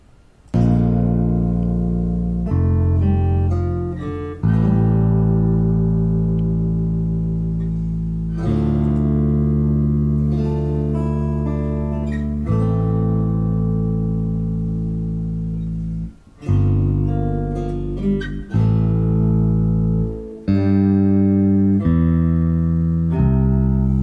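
Second movement of a composition, meant to evoke optimism: sustained tonal harmonies in shifting blocks, fairly loud and steady, with brief drops between chords and no talking.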